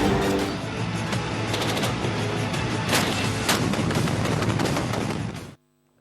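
Dense, sustained automatic rifle fire from a SIG Sauer assault rifle, a loud continuous roar of rapid shots with a few sharper cracks, running for about five seconds before cutting off abruptly.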